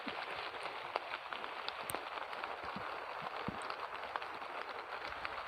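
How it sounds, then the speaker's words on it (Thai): Rain patters on a farm planted with young trees, a faint, even hiss with scattered drop ticks, steady and alone. "ฝนเริ่มแรงขึ้นเรื่อยๆ"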